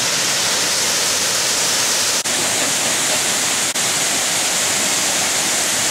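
Rushing water roars loudly and continuously, a steady broadband wash of a river flowing close by.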